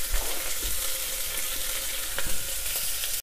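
Onion sautéing in a pan with cinnamon and cloves, a steady loud sizzle with a few sharper stir scrapes, alone without talk.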